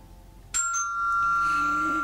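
A doorbell rings at home, one sharp bright chime that starts abruptly and then holds a long sustained tone, loud and close, with no talk over it.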